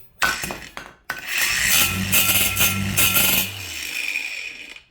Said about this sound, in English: it can be done using this angle grinder